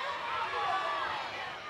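A college softball crowd at Davis Diamond stirs during a South Carolina versus Texas A&M game, a steady wash of distant cheering and chatter with a commentator talking over it.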